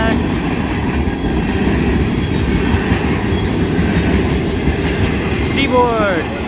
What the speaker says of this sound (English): Yeah, that train was moving.